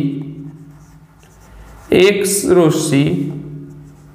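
Notes are written by hand during a Class 10 physical science lesson, a soft scratching of pen or chalk heard under a teacher's steady speaking voice.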